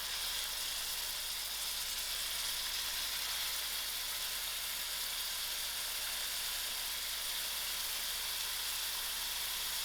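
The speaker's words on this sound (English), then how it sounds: "To my oil, I'm going to add in my onions." Onions fry in a quarter cup of oil in a pan on moderate heat, a steady close sizzle with a constant bright hiss and a low hum beneath, and no voice or stirring.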